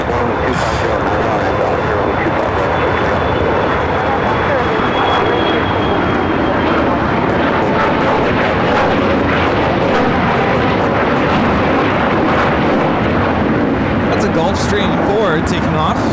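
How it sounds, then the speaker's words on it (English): Gulfstream 4 business jet taking off at LAX, a loud, steady, broadband engine roar filling the whole stretch, close and continuous, with a faint high whine early on and speech mixed in. "Gulfstream 4 taking off."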